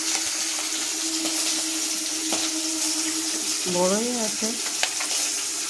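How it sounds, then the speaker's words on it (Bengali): Hilsa fish frying in a wok for mustard hilsa, a steady broadband sizzle throughout with a few light clinks and a brief voice speaking partway through. "ইলিশ মাছটা। কড়াতে দিলাম"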